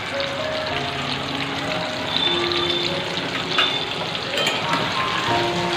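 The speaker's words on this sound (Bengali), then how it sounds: "তো মাংসটার জন্য এই যে আলুটা ভেজে নিচ্ছি" Potatoes for a meat dish fry in a pan with a steady, close hissing sizzle and scattered crackling pops throughout, with no talking.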